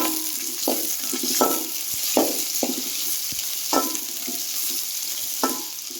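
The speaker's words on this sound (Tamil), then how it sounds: "அதோட வெங்காயம் இப்போ ரெண்டையும் சேர்த்து நல்லா வதக்கி விட்டுருலாம்" Onions and green chillies sauté in hot oil with a steady sizzle, broken by about half a dozen sharp scrapes and clicks of a spoon stirring against the pan, close up with no talking.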